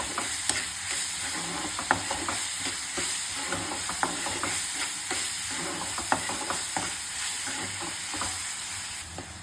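Fish curry with turmeric cooks over high flame in a pan, a soft sizzle under repeated clicking, scraping stirs at an uneven rhythm, close and quiet, no speech.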